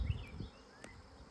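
Honeybees buzz around an open hive during an inspection, a few close, brief passes of whining wingbeats rising and falling, fairly faint, with no talk.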